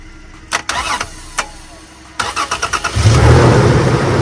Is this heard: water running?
no